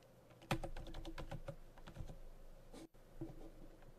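Keys clatter on a computer keyboard during office expense entry, a quick burst of close, crisp taps and a few isolated strokes, with no talking.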